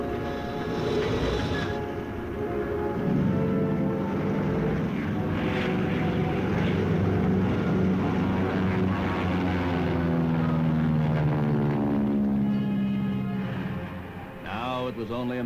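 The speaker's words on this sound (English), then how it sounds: "These tough fighters outfought the best the Japanese had to offer." A WWII propeller fighter aircraft in flight drones steadily with a continuous engine hum, its pitch shifting as it passes, heard under a narrator's voice in historical footage.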